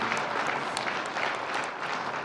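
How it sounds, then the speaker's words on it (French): Audience applause at a horticulture conference session on aquaponics follows a presenter's talk, a steady even patter of many hands at moderate level and a little distant, no voices over it. "Merci de l'applaudir aussi"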